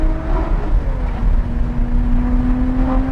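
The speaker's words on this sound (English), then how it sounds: "Great exhaust note from that V6." A 2021 Lotus Evora GT with a V6 and a six-speed manual accelerates on the road. Its exhaust drones loudly and steadily as the engine pitch climbs slowly through a gear, heard from inside the car.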